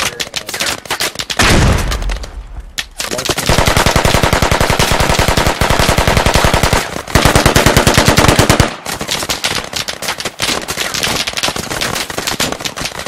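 Dense, sustained automatic gunfire in the tactical shooter Squad, loud and close, with rapid bursts pouring out almost continuously and brief gaps, a heavy boom near the start.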